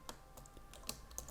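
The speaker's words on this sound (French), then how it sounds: "il suffit de les tirer vers vous et le clavier se soulève" Keyboard of a 2000 iBook G3 Clamshell 12-inch FireWire 366 MHz laptop is pulled up, giving a few quiet, sharp plastic clicks and taps spread over a second or so, close by.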